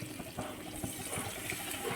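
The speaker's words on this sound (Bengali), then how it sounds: "এটা আমি ভালো করে একটু জল দিয়ে দেব" Water poured into a pumpkin seed masala in a pan, a steady close trickling and splashing flow with no talk.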